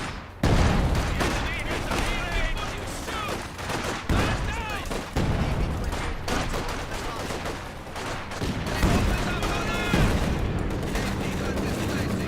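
Artillery blasts and gunfire from the WWII strategy game Company of Heroes 2, heavy booming impacts breaking through continuous crackling rifle and machine-gun fire, loud and sustained, with game voice lines and speech woven in.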